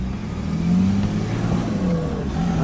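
A car grinds up a snowy off-road winter trail in first gear, its engine holding a loud, close, steady drone that swells slightly and wavers as it climbs.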